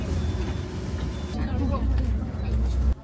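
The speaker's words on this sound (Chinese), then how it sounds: "汽车正式发车了。" A bus engine rumbles low and steady as the first morning bus departs at the foot of Mount Emei in Sichuan, with a person talking over the engine throughout.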